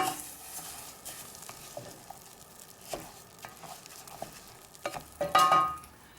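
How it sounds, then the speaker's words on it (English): Basmati rice gets stirred through melted butter in a pan, with a soft steady sizzle under irregular scraping and clicking stir strokes, a louder clatter near the end. "And just toss into the butter. Stir through just till it gets coated lightly and is glossy."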